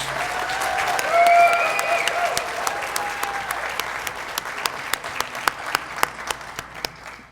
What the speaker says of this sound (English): Ladies and gentlemen, let's give these two ladies another round of applause.